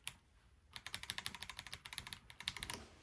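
Keys click on an RK M75 mechanical keyboard in a steady, fast run of crisp presses, close up and fairly quiet, with no voices over it.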